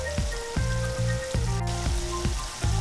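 Jamaican dumplings fry in hot oil in a pot, a steady dense sizzle with repeated soft knocks and clinks as they are turned, close and continuous.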